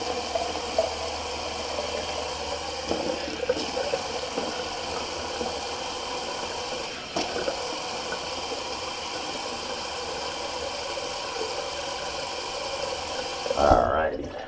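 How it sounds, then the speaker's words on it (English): Cold water runs steadily from a bathroom tap during a face rinse after a wet shave, a continuous close hiss with a brief splash at the end. "let me just do a quick cold rinse. Cold rinse on the face."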